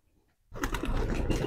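Pigeons in a colony coo close by, a short burst of low, rounded calls rising suddenly after a brief near-silence and continuing loudly for about a second.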